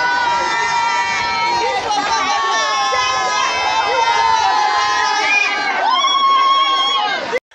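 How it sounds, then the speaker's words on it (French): A lively crowd cheers and shouts along a street during the 2023 carnival parade in Bonoua, a dense, continuous roar of many voices with high calls and whoops rising above it, ending abruptly. "La foule émerveillée est en liesse"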